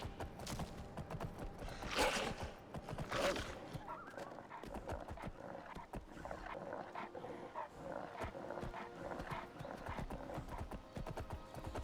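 Galloping horse hooves in Skyrim on a cold mountain road, a steady clip-clop rhythm running throughout, moderately loud amid game ambience.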